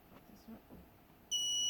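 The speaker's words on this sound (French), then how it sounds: "Donc là, ça va biper jusqu'à qu'il refroidisse." A steady high electronic beep from an Arduino buzzer starts near the end and holds continuously, loud and close, after quiet background murmur.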